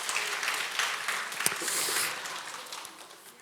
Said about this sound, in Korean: 우리 잠깐 일어나면 박수 크게 쳐드리도록 하겠습니다